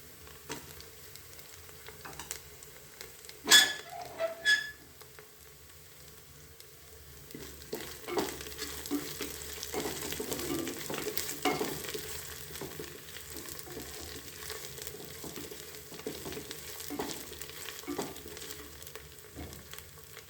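Coriander, mint and green chillies sautéing in a pan for ghee rice, a soft steady sizzle with occasional stirring scrapes and a couple of brief clinks near the start.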